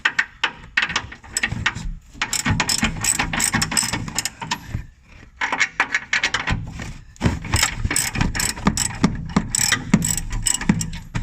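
A ratchet with an 18 mm deep socket loosens bumper nuts on a 2013-2018 RAM 1500 pickup during a hidden winch kit install, giving rapid bursts of metallic clicking with brief pauses, close and fairly loud, no talking.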